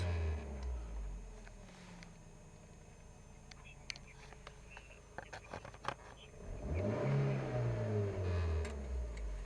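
A car engine revving high toward about 6000 rpm and then released: a low idle drone that falls away, then a rising, swelling engine roar near the end, with soft speech and ticking clicks in between.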